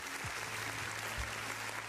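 Soft, faint clapping from a small group at a casual indoor card pack opening session, a brief low-key burst of applause with a faint hum beneath.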